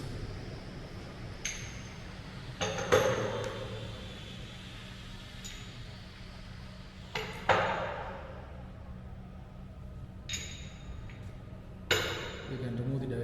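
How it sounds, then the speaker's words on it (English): Metal weights are lifted off a column buckling test rig, giving several faint, separate metallic clinks and knocks against a quiet room background. "To dismantle the setup, we will remove the weights."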